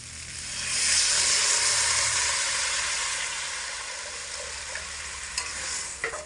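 Water poured into sautéed potatoes in a hot pan for an egg and potato curry, a loud rushing sizzle swelling early and then slowly fading into a softer simmering hiss, close up with a couple of faint clinks near the end.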